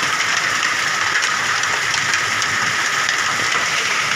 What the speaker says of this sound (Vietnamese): Mưa đá rất là kinh khủng luôn.